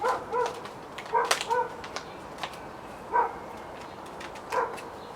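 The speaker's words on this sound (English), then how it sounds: "The dog's very excited about the planting of the tomato seeds." An excited dog gives a string of short yips and whimpering barks in separate bursts, fairly close, during tomato seed sowing in compost-filled punnets, with no talking.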